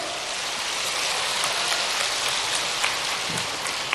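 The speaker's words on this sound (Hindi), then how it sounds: "और इस पे तो जोर से ताली बजाओ ना।" Loud, dense clapping from a large crowd at a live political rally addressed by Chief Minister Shivraj Singh Chouhan, a steady unbroken wash of applause with no voices over it.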